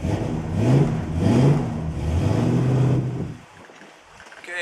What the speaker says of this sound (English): what we do down here at the end is shift this thing into reverse